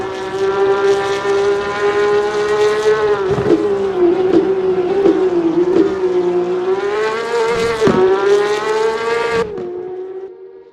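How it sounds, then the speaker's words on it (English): Porsche 992 GT3 Cup race cars roar in the Assetto Corsa racing game at Hockenheim, a loud sustained engine drone with shifting pitch and brief gear-change dips, continuous for about ten seconds before cutting off. "As the sun beats down and the engines roar, Mr. Bang stakes a claim in 6th."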